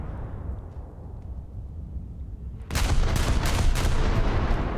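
Naval gunfire from the German dreadnought SMS Nassau in the War Thunder naval combat game: after a quiet rumbling stretch, a sudden loud broadband blast of cannon fire erupts and sustains as a dense roaring barrage.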